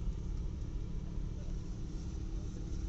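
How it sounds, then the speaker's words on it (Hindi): A strong dust storm blows across an open grain market in Jaipur, producing a loud, constant low rumble and buffeting roar close to the microphone, with no clear pauses. "और फिलहाल आंधी बहुत ज़्यादा तेज चल रही है।"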